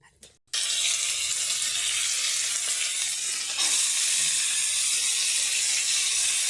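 Fennel seeds hitting hot oil in a pan, a loud steady sizzle that bursts in after a brief clatter and carries on without pause, close and bright.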